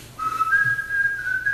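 A person whistles a tune alone, a clear sustained melody of long held notes stepping between pitches, close and steady over a low background hum with no talking.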